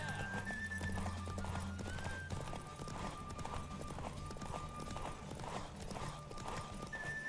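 A galloping horse pounds out rapid hoofbeats in a race in The Witcher 3, whinnying along the way, loud and close over game music and occasional voices.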